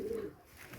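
A captured pigeon gives a single short, soft coo, near and low, with no other sounds.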